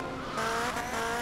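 A car in a video game drives past with engine tone and tire squeal rising midway, a fairly quiet steady whine with no talk.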